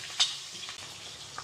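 Cumin seeds and green chillies frying in hot oil in a pan, giving a soft steady sizzle with a brief crackle near the start and faint stirring scrapes, fairly quiet and close.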